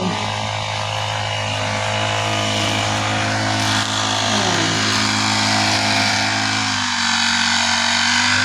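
A grass cutter engine runs steadily nearby outdoors, a loud continuous buzzing drone with a slight shift in pitch near the end.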